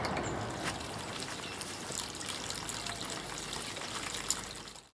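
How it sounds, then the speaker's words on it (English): A small solar-powered pump drives water down a stone-edged garden cascade fountain, giving a steady close trickling and splashing with faint mechanical clicking underneath, continuous throughout. "And the pump turns on."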